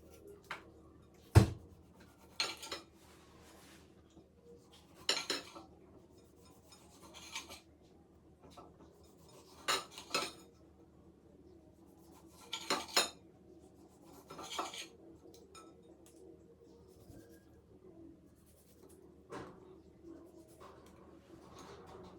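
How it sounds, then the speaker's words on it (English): A knife slices tomatoes and onions on a board for African salad, short scraping cuts in irregular bursts, close and quiet, with brief speech in between. "We're going to slice our tomatoes and onions."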